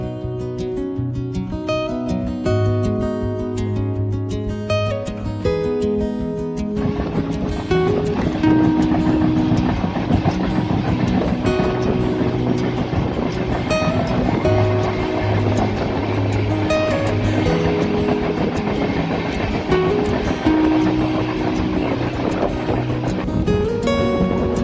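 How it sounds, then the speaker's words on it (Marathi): Dikshabhoomi Express 11045 running through a ghat section, a loud continuous roar and rumble of the moving train with rattling wheels, steady throughout, no talking. "जबरदस्त धूळ उडवत मित्रांनो आपली ट्रेन पळत आहे सध्या."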